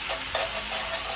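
Tomato paste for chicken cacciatore cooks in a pot with a steady, close sizzle, broken by one brief scrape of stirring near the start.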